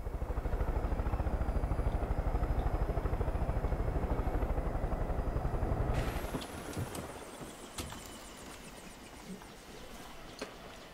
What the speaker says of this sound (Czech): slyší tam vrtulník